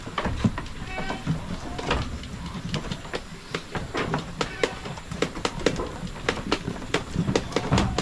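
A goat on a Filipino farm bleats a few times over a busy background of rapid clicking and rattling, while a person speaks nearby.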